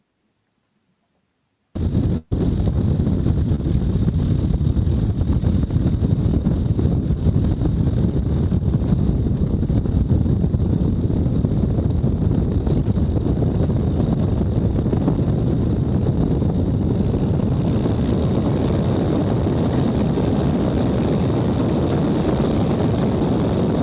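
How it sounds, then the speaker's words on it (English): An airplane's engine runs up to a loud, steady roar after a brief quiet start and holds it throughout the takeoff roll down the runway, with wind buffeting and no talking. "Let's do the takeoff with Scott."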